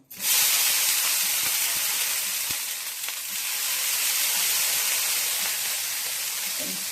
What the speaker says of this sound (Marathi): आपण त्याच्यावर थोडं पाणी सुद्धा मारून घेणार आहोत.